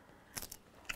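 Crisp bites into fresh raw romaine lettuce leaves make a few short, sharp crunches close up, separated by brief pauses, fairly quiet with no talking.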